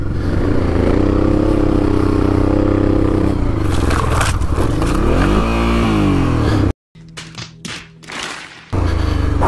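A Honda XL650V Transalp motorcycle is ridden over loose sand, its engine droning loudly and steadily with rising and falling revs, then a sudden cut to quieter rumbling and thumps before the loud engine returns.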